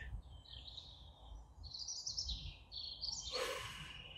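Small birds chirp and sing outdoors in a few faint, thin trills and tweets at a distance, scattered over a soft low background rumble.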